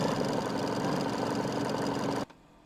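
A home embroidery machine stitches out a Mind Your Mummy Halloween design with a steady, loud, fast needle drone that runs continuously, then cuts off abruptly near the end.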